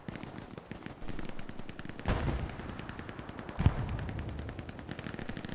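Rapid automatic gunfire rattles on continuously in the video game No Man's Land, with two heavier louder blasts standing out amid the steady stream of shots, no talk over it.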